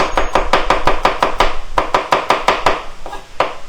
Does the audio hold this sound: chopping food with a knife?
yes